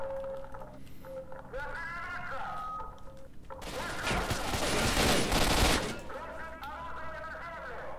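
Gunfire in the video game S.T.A.L.K.E.R. Shadow of Chernobyl at a military outpost, a dense burst of automatic shots lasting a couple of seconds, loud and close, with quieter game ambience and a voice before and after.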